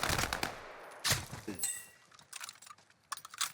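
Bursts of gunfire in the video game Warzone, several short volleys at moderate level with gaps between, fairly close and without talk over them.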